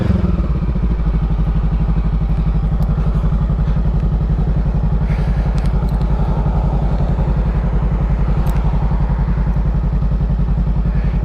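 A 2023 Honda Rebel 500 motorcycle with an aftermarket Amazon exhaust runs close and loud, its deep engine pulsing in an even, rapid low thump that holds steady throughout.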